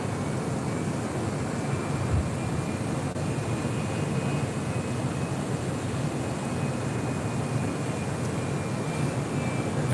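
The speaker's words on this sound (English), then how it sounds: "The MD-11 freighter. Now pushing back." MD-11 freighter pushing back at LAX, with a continuous low jet engine rumble and a thin high whine holding steady over airport background noise, no voices.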